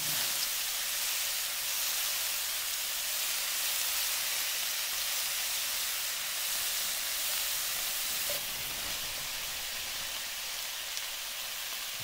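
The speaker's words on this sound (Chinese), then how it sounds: "需要一直翻炒它，因为火始终都是开大的" Mushrooms stir-fry over high heat in a steady, hissing sizzle that runs without a break and without talk.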